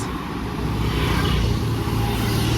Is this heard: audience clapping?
no